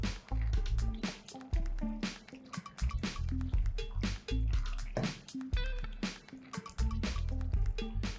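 Soft, tender cooked kidney beans (rajma) tipped from a pressure cooker into a hot tempering, giving a busy run of wet drips, squelches and pours with clattering pan knocks, close and fairly loud throughout.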